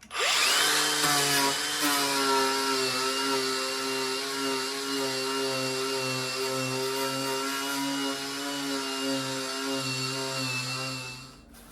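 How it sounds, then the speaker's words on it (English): A power tool cuts rusted metal on a 1972 VW Super Beetle during rust repair, a loud, steady whine with a pulsing low drone that holds for about eleven seconds before stopping. "We're going to cut this piece in steps, little by little"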